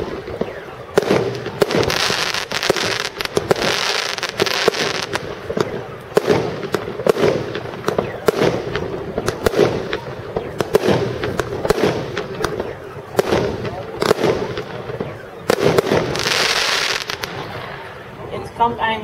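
A JW 162 19-shot 26 mm firework battery fires a rapid run of sharp, loud bursts and crackles in irregular bunches, with voices faintly present between shots.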